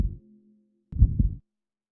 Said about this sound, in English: your ears to rumble with the sound of your protagonist's heartbeat